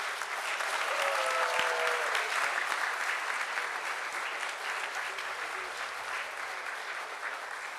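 Sustained crowd applause for a facilities team at a closing ceremony, loud and even with many overlapping claps, tapering slightly toward the end.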